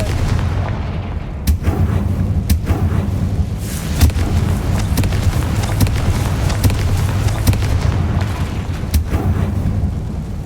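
A Confringo fire spell blasting in Hogwarts Legacy, with loud, continuous rumbling explosions and sharp cracks at irregular intervals, close and dense throughout.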